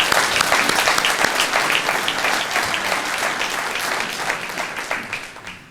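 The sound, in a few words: audience applause for board trustees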